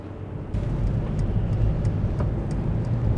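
Inside a 2017 Mercedes V-Class 250 diesel while driving, a low, steady engine and road drone fills the cabin, with faint rhythmic ticking on top and no speech.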